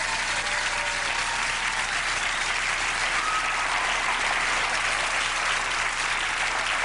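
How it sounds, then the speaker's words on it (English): Studio audience of a late-night television talk show breaks into sustained, even applause, a dense wash of clapping at constant loudness from start to finish. "Hit the applause button."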